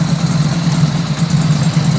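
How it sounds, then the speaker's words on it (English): A 1997 Buell M2 Cyclone motorcycle fitted with a custom MagnaFlow hot-rod car exhaust runs at a steady, loud idle, with a deep, even rumble recorded close up and no talking. "MagnaFlow exhaust."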